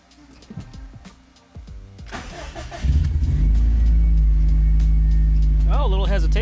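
A 2015-2020 Subaru WRX STI starts after an AEM fuel pump install: clicks and shuffling, a cranking starter, then the engine catches and settles into a loud, steady idle close by, with a brief voice near the end.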